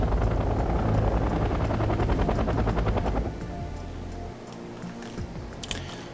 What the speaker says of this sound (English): And he has a scout helicopter, the